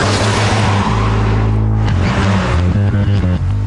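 Supercharged Lotus Elise S with a 1.8 litre Toyota engine revving hard, loud and close, its tone climbing and dropping through repeated rises in pitch.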